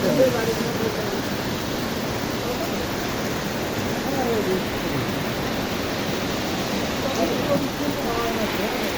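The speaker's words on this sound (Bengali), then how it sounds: "প্রচুর বৃষ্টি হচ্ছে, আর ওই বৃষ্টি হলে তো বাড়ির পানি দিয়ে ফেলে ঘরে।" Heavy rain pours down in a steady, dense hiss that stays even throughout, with faint voices in the background.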